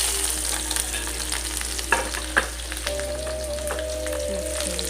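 Onions sizzle and fry steadily in a hot pan with dried chilies for ghugni, a constant close crackle with occasional sharp pops and a few stirring scrapes, no voices.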